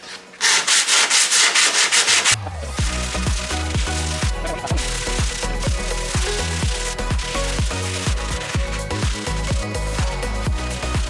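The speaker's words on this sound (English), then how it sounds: "Bondo has cured, so let's start sanding." Rhythmic scraping of sandpaper over cured Bondo body filler on a 2010 Citroen Berlingo, rapid back-and-forth strokes repeating close up after a brief burst of rough rubbing.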